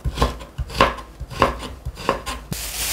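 A knife thinly slices a carrot on a cutting board, about five crisp thuds in a steady pace, close up, followed by a brief scraping rustle.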